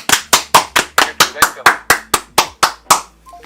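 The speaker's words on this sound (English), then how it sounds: "Big round of applause for Zach." A single person claps a quick, even run of about a dozen loud, close handclaps for a guest on a talk show, sharp and evenly spaced before trailing off.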